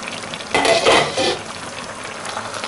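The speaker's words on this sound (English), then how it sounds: "One last stir" Thick spaghetti sauce simmers in a pot while a spoon gives it a final stir, a brief burst of wet scraping and bubbling rising over a quiet, steady simmer.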